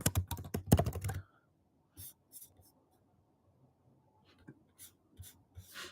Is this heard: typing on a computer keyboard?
yes